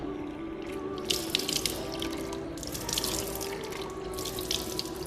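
Water is poured by hand over the forearm and elbow during wudu ablution, a steady splashing trickle in bursts over a low background hum, close and alone with no talk.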